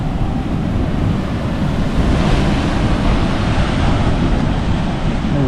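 Big ocean waves crash onto a driftwood-strewn beach near Nawiliwili on Kauai, making a loud, continuous roar of surf mixed with wind buffeting the microphone.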